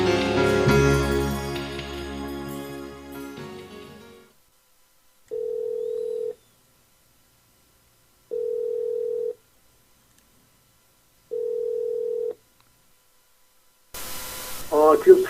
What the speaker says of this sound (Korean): 오늘은 우리 임종표 선교사님을 전화로 모십니다